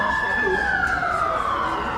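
A passing emergency vehicle's steady, loud siren tone drones over traffic noise at an outdoor hula performance, its pitch sliding slowly downward.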